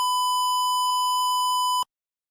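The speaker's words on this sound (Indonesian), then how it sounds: "buzzer juga akan hidup karena terlalu panas" An electronic buzzer in an IoT temperature-monitoring system sounds an overheat alarm: a single loud, steady, pure-toned beep lasting close to two seconds, then stopping abruptly into silence.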